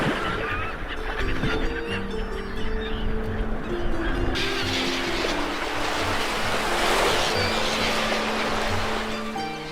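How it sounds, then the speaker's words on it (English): Mediterranean sea waves roll on the Cyprus coast with a continuous, loud rushing wash of surf. Sustained tonal honk-like sounds sit over the water noise. "the sound of the waves on the sea"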